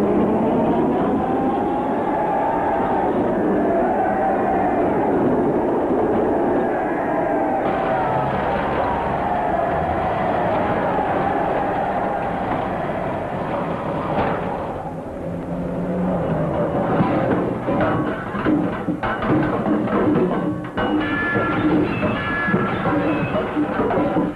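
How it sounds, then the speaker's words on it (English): The last London tram of 1952 rolls past a crowd on the pavement, a long, loud rumbling and grinding pass under a steady hum of crowd and traffic noise, swelling and fading over twenty-odd seconds. "there goes the last tram."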